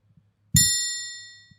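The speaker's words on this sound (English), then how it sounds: "Let's ring the bell." A single bell is struck once, giving a sharp attack and a long ringing decay with bright overtones that fades over about a second in a quiet room.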